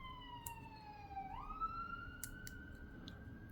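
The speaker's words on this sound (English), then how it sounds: "Hear that siren going by?" A faint siren wails steadily in the distance, its tone dipping then rising as it passes, with light clicks and background hum.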